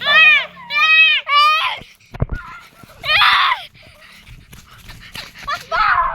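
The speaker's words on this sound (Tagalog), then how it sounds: "May aso dito." A dog barks and whines up close in sharp bursts, mixed with children's excited voices and some shuffling.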